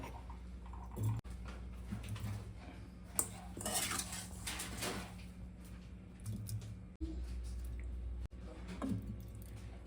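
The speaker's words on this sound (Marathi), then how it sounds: "सर्व आवळ्याचं लोणचं आहे बघा बरणीमध्ये टाकणार आहे" Cooked amla pickle being spooned into a jar in a home kitchen, with scattered clinks of a spoon on glass and wet squishy scraping, fairly quiet and close, with a few sharp knocks.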